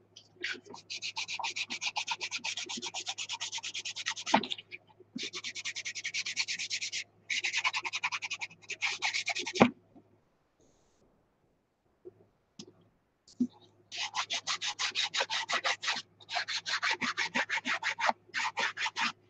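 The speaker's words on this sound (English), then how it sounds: "I'm gonna sand these edges down if I can find my if I can find myself an emery board" An emery board rasps along paper edges in quick, scratchy strokes. The rubbing comes in bursts with a quiet pause in the middle, then resumes in rhythmic runs, close and clear.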